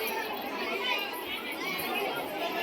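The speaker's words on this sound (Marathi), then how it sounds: "भरपूर गर्दी आज बायकांची" A large crowd of women chatters continuously at a temple during a Makar Sankranti visit, a dense, steady wash of overlapping voices with no single speaker standing out.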